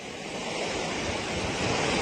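Heavy floodwater rushes after torrential rain in Anantapur, Andhra Pradesh, a steady loud roar of churning, surging water filling the whole clip with no voices.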